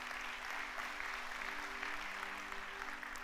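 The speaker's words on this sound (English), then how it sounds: "Please clap your hands for my wife." A church congregation applauds during a Sunday sermon service, producing a steady, even patter of clapping hands that sounds fairly faint and distant throughout.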